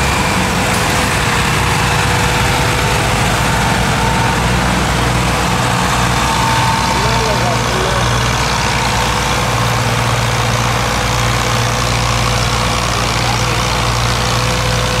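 Three Massey Ferguson MF260 tractors idle in a muddy field during corn harvest, their loud, continuous diesel rumble deep and steady throughout, with a faint mechanical whine riding over it.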